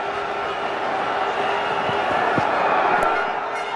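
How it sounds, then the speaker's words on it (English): Indian cricket crowd roaring after a Virat Kohli six in a 2013 Champions Trophy match against Sri Lanka, a dense sustained stadium din with horn-like tones and a few sharp thuds. "Indian crowd going off too"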